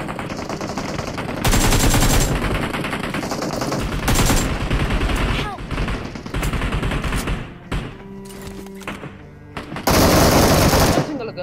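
Automatic gunfire in PUBG Mobile, played on an iPad Mini 6, rattles in loud repeated bursts separated by short pauses and a few single shots, with a voice talking in between.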